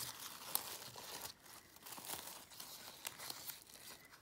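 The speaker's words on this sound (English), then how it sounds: "undo all this tape and plastic" Tape and plastic wrap peeled and crinkled off a square bowl mold, close and quiet, with irregular crackling rustles and a few sharp tearing snaps.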